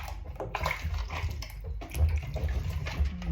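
Apples being rinsed under a running tap, with a steady splash of water and bursts of handling and sloshing that rise and fall close by over a few seconds.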